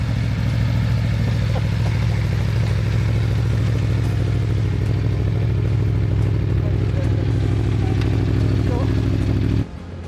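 KTM motorcycle engine, a steady loud close rumble held at high revs for most of the stretch before cutting back sharply near the end, with a voice over it.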